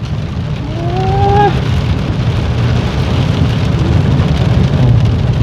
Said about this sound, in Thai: นี่ฝนตกพี่น้อย